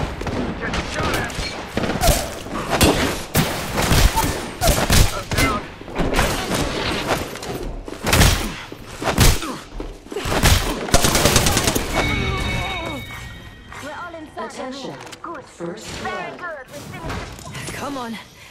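Rapid bursts of gunfire and thudding impacts in an Apex Legends all-out brawl, dense and loud throughout, with voices talking over the shooting.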